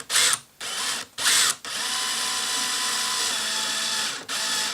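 An electric drill runs slowly while boring a fill-line hole for a NexStar install, with a steady mechanical whir and brief louder revving bursts at the start, close up and with no talking.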